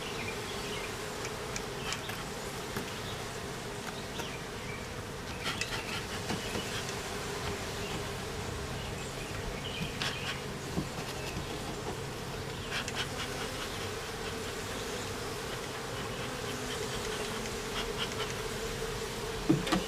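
Honey bees swarm in a dense, steady buzz during the removal of a bee colony, with brood and honey being taken out. The humming is loud and close throughout, with scattered knocks and handling noises and no talk.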